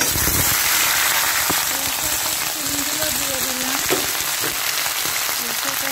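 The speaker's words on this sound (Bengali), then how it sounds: "এবার এই তেলে আমি সিম, ফুলকপি, আলু, ক্যাপসিকাম, পালং শাক সব এতে দিয়ে দেব" Spinach, beans, cauliflower, potato and capsicum hitting hot oil, making a loud broad sizzle that is strongest at the start and eases to a steady crackle, with someone talking over it.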